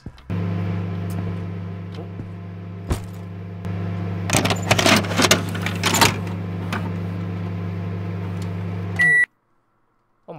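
A convenience store microwave oven in a video game hums steadily with a low drone, clattering and rattling midway, then a few sharp electronic beeps before it cuts to silence.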